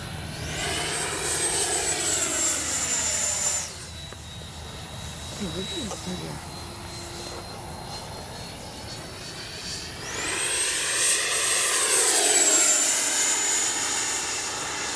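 An FMS 70mm F-18F electric ducted-fan RC jet whooshes past outdoors with a high-pitched turbine whine that rises and falls as it passes, fading and then swelling again as it comes back toward the listener.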